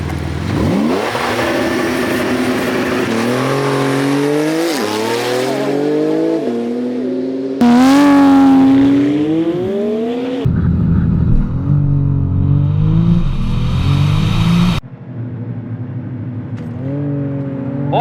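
Porsche 911 GT2 RS and McLaren 720S launching side by side in a drag race, engines roaring and climbing through repeated gear shifts, loud and close, with a cut to a second run later on.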